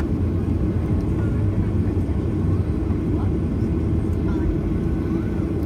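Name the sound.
airplanes at London Stansted airport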